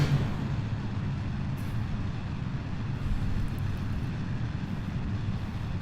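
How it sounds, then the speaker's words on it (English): A steady, loud rocket engine roar at launch and liftoff in the game Kerbal Space Program, a dense continuous rumble with almost no change across the whole stretch. "Okay, we have good liftoff."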